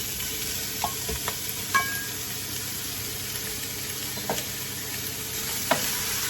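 Sliced pork frying in a pan for pork curry, a steady close sizzle with a few scattered clinks and stirring knocks, no talking.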